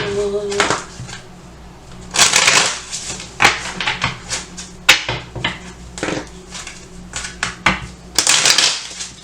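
Oracle cards are shuffled by hand in sharp, irregular bursts of riffling and slapping, close and fairly loud, with short pauses between the flurries.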